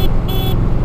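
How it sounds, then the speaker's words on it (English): Horn on a Kawasaki Nomad cruiser motorcycle, a short loud toot lasting under a second that fits a horn tone, with engine rumble underneath. "Let's see what the horn sounds like."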